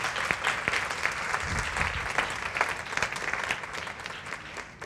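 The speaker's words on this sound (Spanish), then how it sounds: "Denle un aplauso a Dios" Church congregation applauding together at a Spanish-language service, a dense, steady wash of many hands clapping that fills the space at full volume throughout, with no voices rising above it.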